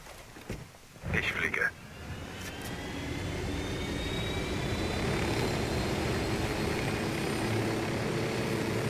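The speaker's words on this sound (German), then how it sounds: "Nehmen wir einfach einen Heli, oder?" A helicopter in the shooter game Ghost Recon Wildlands spools up after a brief clatter, then settles into a steady engine and rotor drone that holds at moderate loudness; players chat over the top in a co-op session.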